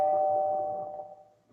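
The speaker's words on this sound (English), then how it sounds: "doorbell." A doorbell rings once indoors, a single clear chime that fades away on its own with no talking.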